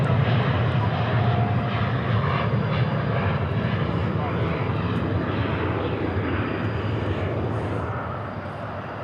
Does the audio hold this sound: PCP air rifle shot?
no